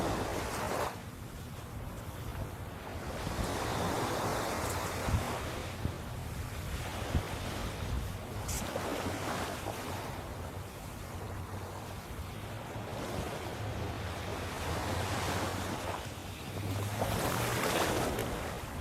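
Steady ocean surf washes ashore at Fort Lauderdale beach, with broad rolling wave noise and gusts of wind buffeting the microphone throughout, and no voices.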